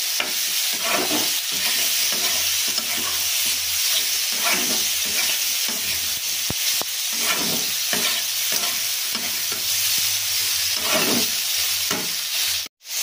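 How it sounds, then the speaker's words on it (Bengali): Soybean and potato being sautéed in a pan for a katla fish curry, an ongoing sizzle broken by repeated scraping and stirring strokes of a spatula in an uneven rhythm, close and fairly loud. "এবার আমি এটাকে আর একটু কষিয়ে পরিমাণ মতো জল দিয়ে দেবো।"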